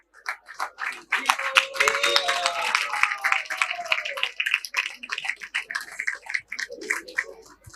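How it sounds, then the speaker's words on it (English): Congregation applause at a Sunday class in an ISKCON temple in Hyderabad, scattered clapping that swells after a second with voices calling out over it, then thins into sparse claps. "Please give them big round of applause"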